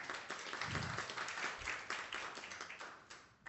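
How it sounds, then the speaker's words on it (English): A forum audience claps together, a moderate, steady patter of many hands with a slightly uneven rhythm that tapers toward the end. "Please applaud."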